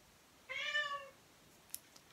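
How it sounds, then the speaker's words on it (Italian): A single clear meow from a nearby cat stands out against a quiet room. A couple of faint clicks follow it. "gatto impazzito"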